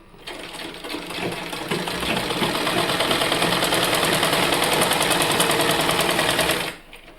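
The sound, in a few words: sewing machine stitching a child's warm cloth cap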